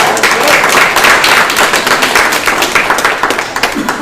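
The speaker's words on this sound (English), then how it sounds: "Can we give her a round of applause?" Applause from a meeting audience, a steady wash of many hands clapping at once, held at an even level for several seconds before thinning slightly toward the end.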